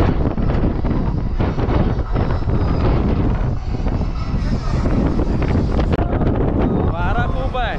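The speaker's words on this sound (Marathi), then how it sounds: "वारा खूप आहे" Strong wind buffets the microphone on the open deck of a Ro-Ro ferry, a loud, rough roar running throughout, mixed with music playing on deck and people talking.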